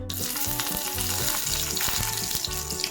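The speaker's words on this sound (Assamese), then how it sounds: "এইফালে পেন এখনত 2 চামুচ ৰিফাইন তেল গৰম কৰি লৈছো। কেইটামান নৰসিংহ পাত তেলখিনি দি ললো।" A few curry leaves hit two spoons of hot refined oil in a pan and crackle into a loud, continuous sizzle, close up and with no voices.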